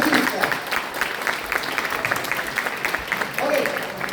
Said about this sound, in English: Let's begin with claps.